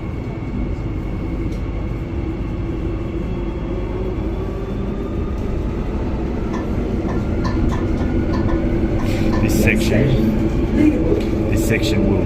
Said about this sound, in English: Doors closing. And we're off. Departing Perth Underground.